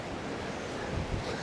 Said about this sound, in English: It's gusting really good.